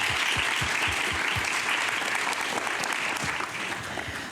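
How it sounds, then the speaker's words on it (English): A conference audience applauds a media panel, a dense, steady wash of clapping that holds at full strength throughout, with a few sharper individual claps standing out. "let's give the panel a big round of applause tonight"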